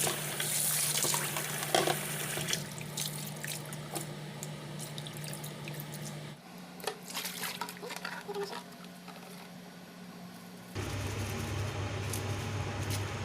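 Water drains from squid in a strainer, a continuous splashing trickle that briefly thins, then returns with a steady running-water rush.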